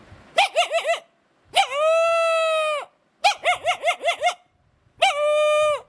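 A boy mimics a dog with his voice, alternating quick bursts of four or five yipping barks with long drawn-out howls, repeated twice, clear and close with no background.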